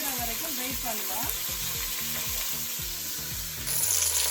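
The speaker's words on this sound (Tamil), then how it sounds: "நல்லா சின்ன வெங்காயமும் பொரியிற வரைக்கும் வெயிட் பண்ணுவோம்." Small shallots frying in oil in a pan, a steady close sizzle with scraping, under background music that briefly grows louder near the end.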